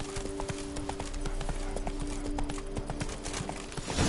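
Roach, Geralt's horse in The Witcher 3: Blood and Wine, trots along with a regular, close clip-clop of hooves over a steady hum of game ambience, with no talking.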